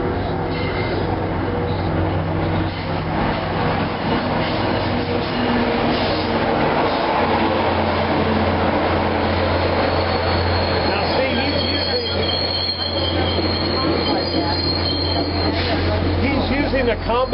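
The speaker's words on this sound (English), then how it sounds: "A combination of his air brakes and his dynamic brakes to stop the train." A heavy train braking with air brakes and dynamic brakes rumbles and grinds steadily with a low engine drone and faint metallic squeals, continuous and fairly loud throughout.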